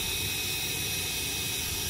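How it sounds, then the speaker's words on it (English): An FM radio tuned to an empty 87.9 station gives off a steady, loud wash of broadband static hiss that holds unchanged from start to finish, with no music or voices. "So you hear that there's nothing but static."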